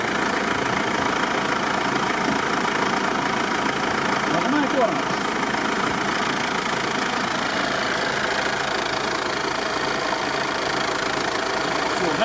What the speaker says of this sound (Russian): чтобы все услышали звук, стук вакуумного насоса.